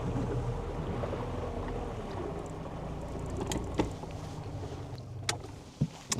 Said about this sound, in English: Let's get ourselves a trolling motor going